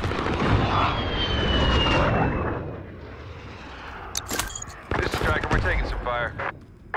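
Gunfire in Call of Duty Modern Warfare multiplayer: a burst of heavy shooting at the start, then sharp rapid shots and clattering bursts later, loud and close, with talk over the action.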